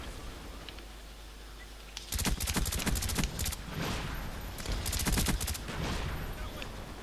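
Rapid automatic gunfire in the video game Last Stand, picking off distant enemies: dense loud bursts of shots starting suddenly after a quieter stretch, repeating in clusters and continuing to the end.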